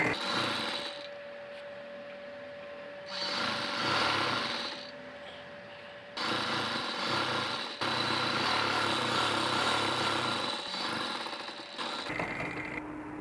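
A sewing machine runs straight seams on a baby frock, in several bursts of steady whirring separated by short pauses, close and fairly loud.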